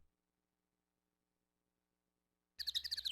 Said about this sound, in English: I hate this bird noise. This bird noise is awful.